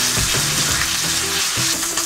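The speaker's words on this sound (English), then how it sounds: "After 5 minutes, flip your mackerel." Mackerel fillet frying in a pan just after being turned, a steady loud sizzle with soft popping throughout and a few faint low clatters underneath, no voices.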